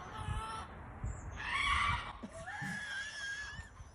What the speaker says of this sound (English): These people found out that their chicken screams like a human.